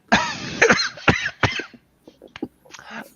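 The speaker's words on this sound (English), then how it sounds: "Don't pay attention to this cough I seem to have got." A teenage boy's series of rough, close coughs in an animated scene, three strong bursts followed by softer, scattered throat sounds and a faint breathy tail.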